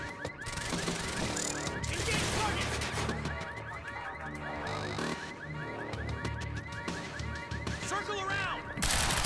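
Gunfire in the Quantum Break video game crackles through a dense, noisy firefight, with alarm-like tones and crashes layered over it and game voices shouting beneath.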